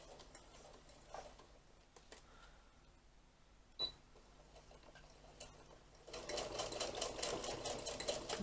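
A sewing machine stitches a fanny pack at about 2.5 stitch length, first with quiet scattered ticks and clicks, then breaking into a steadier, louder run of rapid stitching near the end.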